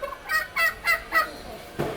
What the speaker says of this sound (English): Press the turkey again.